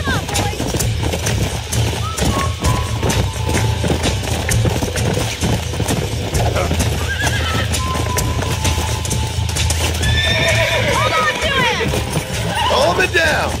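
Horse galloping in the video game Red Dead Redemption, a steady clip-clop of hooves throughout with brief whinny-like cries near the end, while a player talks over it.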